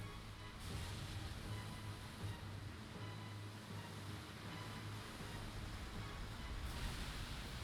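Waves lapping at water in the video game Rogue Galaxy, a steady broad wash of surf with a low hum beneath, continuous and fairly loud throughout with no talking.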